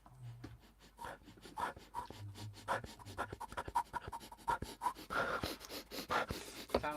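A person imitates a panting dog with quick, quiet breathy huffs in an uneven rhythm, close and soft, with faint rustling and small clicks around it.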